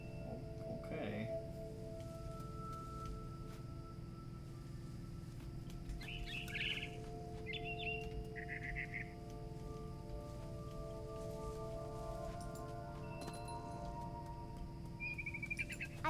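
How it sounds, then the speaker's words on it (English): A barn swallow chirping near a nest outside a window in What Remains of Edith Finch: a few short, faint tweets at scattered moments over a soft, steady musical backdrop. "Then I heard chirping outside my window. It was a barn swallow going back to her nest."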